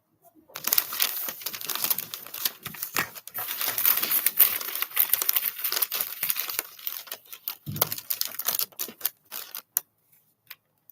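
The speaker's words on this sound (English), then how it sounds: "I'm wrapping a present, making a surprise for myself." Matching wrapping paper rustles and crinkles close up as a gift is wrapped, in continuous uneven bursts that fade out near the end.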